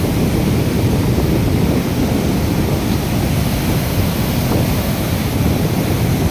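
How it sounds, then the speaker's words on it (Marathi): The swollen Terna river, overflowing after heavy rain with dam gates opened, rushes past in a loud, unbroken roar of water that stays steady throughout with no voices. "हे नदीचं पात्र अगदी तोडून भरत आहे"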